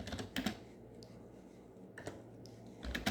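Typing on a computer keyboard, with quick bursts of close, crisp key clicks separated by short pauses, quiet and without speech.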